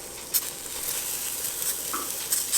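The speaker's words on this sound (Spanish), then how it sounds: "Aquí tenemos las cebollitas, como pueden ver se están asando." Onions roasting on a grill for Jalisco-style carne en su jugo give a steady, soft sizzle and crackle, with a few brief brighter pops and scrapes from turning them.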